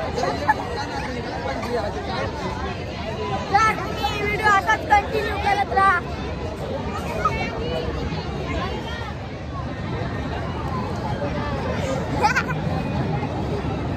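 Dense crowd chatter fills a busy Shelu village fair (jatra) in 2024, a steady hubbub of many voices with engine noise from passing vehicles and a nearby voice talking over it throughout.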